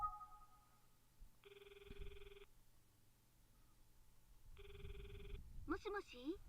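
Phone ringing in a video game while calling a character named Ayumi: two separate electronic ring bursts, each about a second long, quiet and clean, followed by a brief voice at the end.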